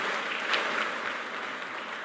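Graduates at a Universitas Padjadjaran graduation ceremony receive applause, a steady, fairly distant wash of crowd clapping in a large hall.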